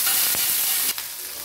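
Garlic hits hot oil in a wok, setting off a loud, close sizzling hiss with a sharp burst and a second flare before the frying settles slightly quieter, with no voices.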